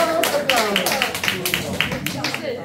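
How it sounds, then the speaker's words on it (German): An audience at a Christmas party claps in a loose, fairly close rhythm of distinct individual claps rather than a dense roar, lasting a few seconds. "Applaus!"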